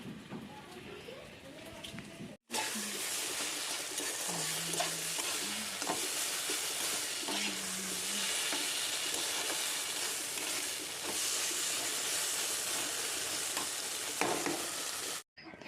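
Shrimp frying with taro leaves in a pan, a loud continuous sizzle with scraping stirs that runs almost the whole way, beginning and ending abruptly, with faint talk underneath.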